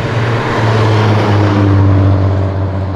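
A Lexus fitted with a 2JZ engine accelerates on a city avenue, its loud, steady engine note droning throughout with a strong low rumble, close to the listener and with no talk over it.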